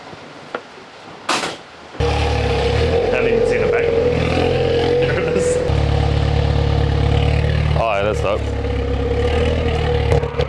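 A 300kW car engine catches after a quiet start and settles into a loud, steady rumbling idle that shifts pitch slightly partway through, with a voice over it.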